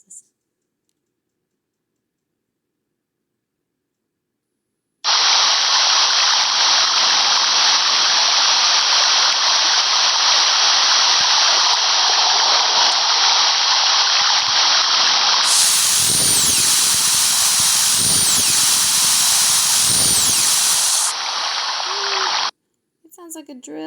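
Recorded narwhal song from a Greenland fjord, a loud continuous drill-like whine that runs unbroken for most of the stretch, with thumping bursts near the end and no talk over it.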